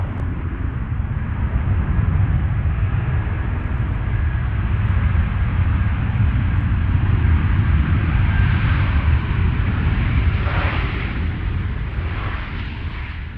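An airliner on approach to runway 20 left at Nashville International Airport, a steady, loud, continuous roar of jet engines that swells slightly as it passes, with no talk.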